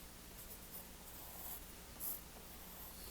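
Pen or pencil scratching on paper as a poem's title is written out by hand, a soft, close, steady scribbling with a few brief louder strokes, no voices.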